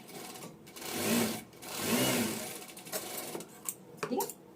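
A sewing machine runs a half-inch seam on a princess-cut blouse, with quiet mechanical whirring and tapping in short stretches, fairly soft, while someone talks over it.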